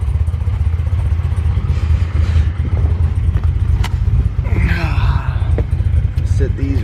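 A Cadillac CTS-V fitted with BTR and Texas Speed parts rumbles loudly and steadily as it sets off, with clattering in the cabin and a voice speaking over the engine.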